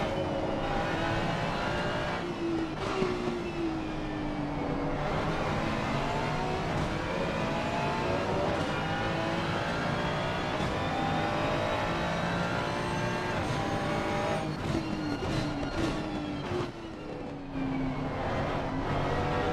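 A Ferrari race car engine roars in Assetto Corsa Competizione at the Nürburgring, revving up and down steadily through gear changes, loud and continuous with no talk over it.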